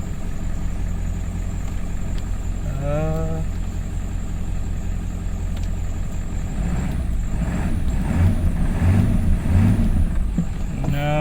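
A 1997 Ford F-350 truck idles steadily with a low rumble while being shifted into gear; a brief squealing, rising tone comes near three seconds, and a louder grinding rattle builds later as it tries to engage.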